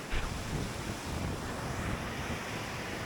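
Steady rushing broadband water noise from a heavy-flowing waterfall at Gordale Scar, a limestone gorge, continuous and fairly close, with some wind buffeting on the microphone and no voices.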